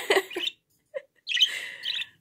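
An indoor pet bird chirps nearby in quick, bright bursts of tweeting, separated by brief pauses and a single short call.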